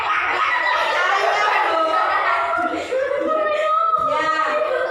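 Children imitating chickens in a classroom game, a loud, dense chorus of clucking and squawking voices at close range, with laughter mixed in and a brief dip near the end.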